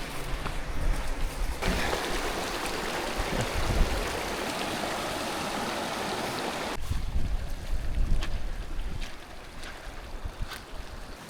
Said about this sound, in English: Got our first major creek crossing here.